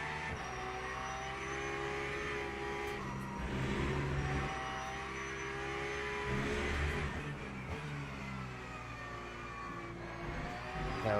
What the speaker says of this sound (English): this LMP3 is actually a quick LMP3 and just blitzed past us